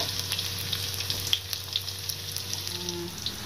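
Shallots and garlic sizzle in a pan for an Indonesian stir-fry, a steady close crackling hiss with small pops throughout and no voices.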